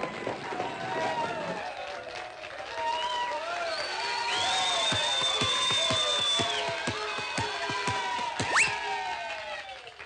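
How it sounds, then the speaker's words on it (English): Basketball crowd cheering wildly in the last seconds of a close game, a sustained roar of voices and whistles under a steady run of thumping footsteps, with an excited voice calling the action over the noise. "the crowd is wild"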